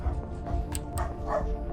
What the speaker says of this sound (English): Pardon my dog.